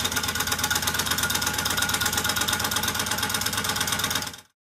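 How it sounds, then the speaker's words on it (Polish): A homemade Stirling engine built with glass syringes runs with a steady, rapid mechanical clatter, close and even throughout, then stops abruptly near the end. "W tym filmie opowiem Wam o moim silniku Stirlinga."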